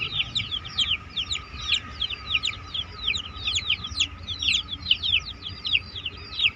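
Many high, rapid peeping calls from chicks in a brooding setup overlap continuously, a busy chorus of short chirps close by with a low hum in the background.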